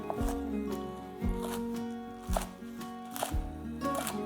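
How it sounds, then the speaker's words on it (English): A knife chops through homegrown mustard greens on a board, with four firm, evenly spaced cuts about a second apart, each followed by leafy rustling and crunching, close and clear with no talking. "So I've already washed these and now I'll chop these roughly"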